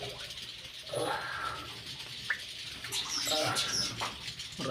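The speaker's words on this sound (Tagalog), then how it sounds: "Maraming ibon dito mga idol, oh." Many birds chirp and twitter near water while fishing, a mix of scattered calls and splashy rustling at moderate distance, with faint voices in the background.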